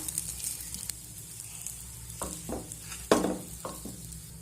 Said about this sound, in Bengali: এইভাবে আমি ক্যাপুলা দিয়ে একটু চেপে চেপে পরোটার দু সাইডটা ভেজে নেব